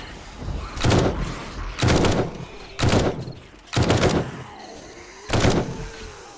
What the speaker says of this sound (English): Machine guns are fun too, aren't they?